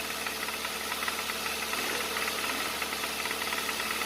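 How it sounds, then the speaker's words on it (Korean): A Hyundai Avante AD with a knocking engine idles, giving a fast, even ticking tap riding on a steady mechanical drone, close and continuous, with no talking. "노킹 소리가 나는 아반떼 영상을 들려드릴게요"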